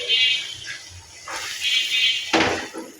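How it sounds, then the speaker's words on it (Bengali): Water is poured into a pan of spiced stinging catfish curry with kuchila greens, producing two close bursts of splashing, rushing liquid with no speech. "পরিমাণ মতো পানি দিয়ে দেবো"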